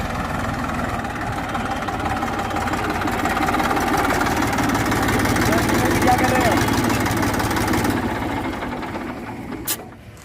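A modified Massey 241 tractor engine runs continuously at a steady, rough, throbbing idle close by, then fades toward the end before a brief clack.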